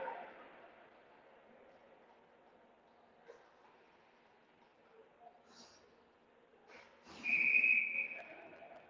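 Referee's whistle at a junior ice hockey game between the Killarney Shamrocks and Virden Oil Kings, one sharp, loud blast near the end that cuts above rink noise and a commentator's voice.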